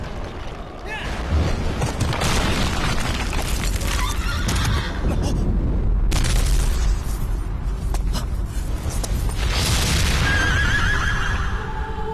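A horse neighs and whinnies with galloping hoofbeats in the video game Shadow of the Colossus, loud against a dense orchestral and ambient backdrop with booming low rumble throughout.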